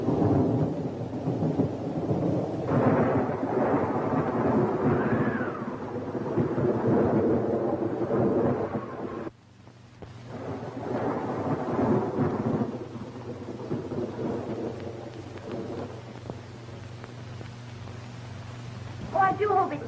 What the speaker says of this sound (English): Oh, I do hope it stops raining